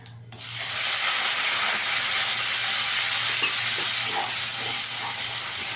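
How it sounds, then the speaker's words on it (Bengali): Ground onion paste with whole cumin, cinnamon and cloves hits hot oil with a sudden loud sizzle that settles into a steady, dense frying hiss with faint crackles, no talking over it. "পেঁয়াজটা একটু ভালো করে ভেজে নেব।"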